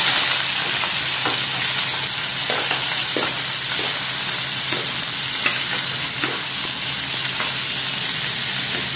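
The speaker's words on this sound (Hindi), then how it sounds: "सो इसमें हम ऑनियन ऐड करते हैं।" Onions sizzle loudly in hot ghee in a pan, with a dense, close, continuous frying hiss and occasional soft stirring scrapes, and no talk.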